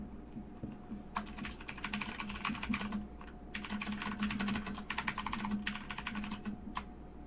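Rapid keystrokes clatter on a computer keyboard in dense bursts with short pauses, close and clear over a low background hum, with no talking.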